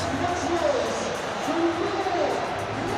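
Large crowd of about 20,000 at the KC Stadium for a Hull v Leeds Rhinos rugby league Challenge Cup match, a steady roar of crowd noise and hooting with commentary talking over it.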